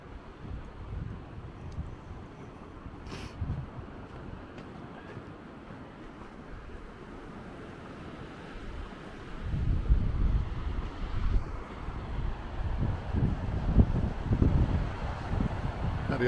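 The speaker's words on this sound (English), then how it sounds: "the waves are coming in at the beach" On a cold, blustery day at a beach, waves come in with the tide well out and break off a far sandbar. The surf rumbles steadily under gusting wind noise and grows louder partway through, with no talking.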